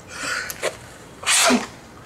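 A single sharp indoor sneeze with a short breathy intake just before it, close and clear, with no one speaking over it.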